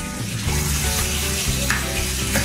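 Garlic and onion fry in a pan with a steady, close sizzle and crackle, with faint stirring scrapes underneath.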